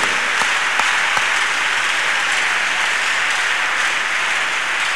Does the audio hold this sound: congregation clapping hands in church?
yes